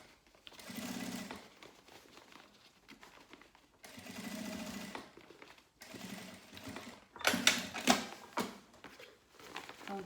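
A sewing machine stitches fabric along the edge of a milk-carton box in a creative sewing project. It runs in about four separate bursts of quick, rhythmic mechanical chatter, close and clear, with brief quiet gaps between them.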